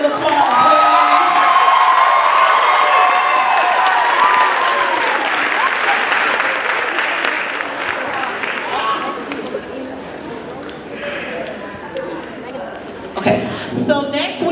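A school audience at a 5th grade moving-on ceremony in River Rouge bursts into loud, sustained applause mixed with cheering, whoops and children's shouts, gradually thinning toward the end with a few louder claps and voices.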